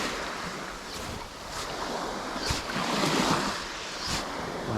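A Geppetto Lures Kaliboo 120 F popper is worked across the water, throwing up splashes and a bubbling wake. Several gurgling pops rise over a steady hiss of wind and surf.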